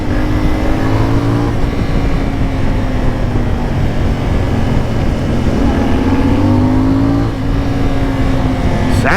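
A CF Moto 450 Ibex motorcycle engine idles and revs loudly up close, its pitch rising and falling through several steady throttle sweeps with a brief dip near the end.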